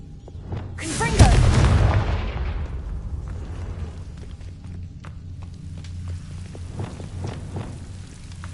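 A Confringo blasting spell cast in the Hogwarts Legacy video game erupts in a single loud, deep boom that fades into a rumbling tail over several seconds, with faint crackling continuing afterward.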